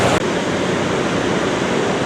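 Niagara Falls heard from close up, a loud, steady, broadband roar of rushing and crashing water that fills the whole clip without letting up.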